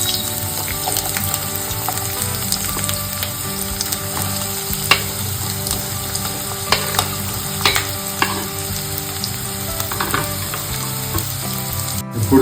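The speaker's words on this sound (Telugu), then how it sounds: "ఆయిల్ వేడెక్కిపోయింది, ఉల్లిపాయలు వేస్తున్న దీంట్లో." Onions sizzle loudly and steadily in hot oil for a Telangana-style chicken curry, with a close, constant crackle, occasional sharp pops and spatters, and a low background hum.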